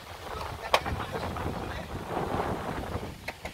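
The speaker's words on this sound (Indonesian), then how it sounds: "Ini angin sangat kencang daerah Ambal ya ini ya." Strong wind gusts roar across a roadside in the Ambal area near Bulak Sinungrejo, Sidoluhur, where a large tree has fallen. A steady broadband rush buffets the microphone, with a few sharper knocks.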